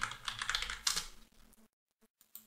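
Fingers type quickly on a computer keyboard, close by. A dense run of keystroke clicks thins out into a few separate taps after a short pause.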